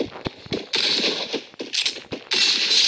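Gunfire from the video game Free Fire: sharp, close shots and short bursts crack out in quick irregular succession amid louder game noise.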